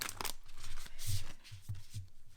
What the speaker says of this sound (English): we'll go ahead and give these a quick shuffle